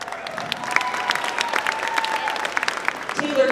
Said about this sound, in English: it is appropriate in jazz repertoire to applaud them after they've completed their solo